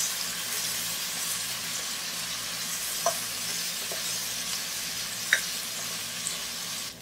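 Ginger garlic paste frying in oil for mutton biryani makes a steady, soft sizzle, with a few light clicks of stirring against the pot.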